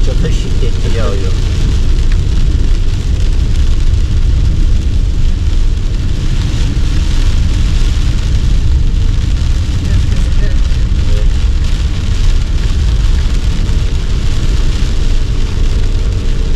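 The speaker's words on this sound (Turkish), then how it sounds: "Yani oldukça da şiddetli yağıyor." Heavy rain pours during a road trip through Turkey's Black Sea region near Rize and Trabzon: a loud, dense, unbroken hiss that stays constant throughout, blended with a low vehicle rumble.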